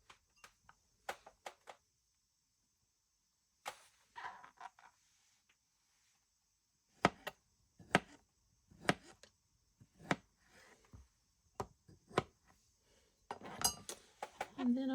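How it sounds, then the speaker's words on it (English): Knife slicing beets about a quarter inch thick for canning, sparse sharp taps and clicks of the blade on a cutting board and utensils, fairly quiet, with a person talking between cuts. "So I'm just going to slice them about a 1/4 inch thick."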